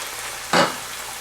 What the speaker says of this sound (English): Now the onions are just starting to turn translucent, which means they're sauteing nicely.